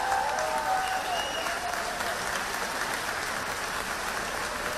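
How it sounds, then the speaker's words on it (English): Crowd applause at a political speech event in Fayette County, Georgia, loud, dense clapping from a large audience that holds steady and tapers slightly over five seconds. "Let's give them a big round of applause."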